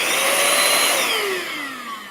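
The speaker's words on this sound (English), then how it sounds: "We can put it in here and turn on this vacuum." Cordless vacuum cleaner powered through a battery adapter whirs loudly and steadily, its motor pitch sliding downward as it spins down toward the end, with no talking.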